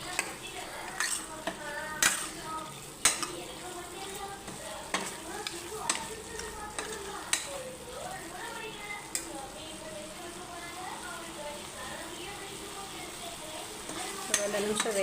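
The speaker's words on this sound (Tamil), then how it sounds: "மசாலா வந்து இந்த மட்டனோட எல்லாம் மிக்ஸ் ஆகிற மாதிரி நம்ம இப்போ மிக்ஸ் பண்ணிக்கலாம்" Mutton being stirred with masala in a frying pan for mutton kuzhambu, a continuous sizzle with repeated scraping strokes of a spoon against the pan, close and fairly quiet, no talk.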